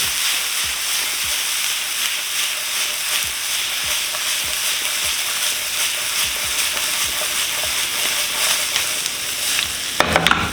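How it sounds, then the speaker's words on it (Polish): Peppers and olives fry over high heat for shakshuka, giving a loud, steady sizzle with soft stirring scrapes throughout and a few sharper clatters near the end. "I podsmażamy na mocnym ogniu przez około 4-5 minut."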